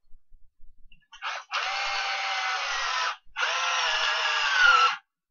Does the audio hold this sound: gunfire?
no